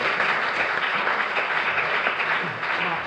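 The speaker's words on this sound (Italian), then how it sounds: "Merita un applauso" A crowd applauds at the Premio Campiello literary prize ceremony, steady dense clapping that holds for about three seconds with faint voices beneath.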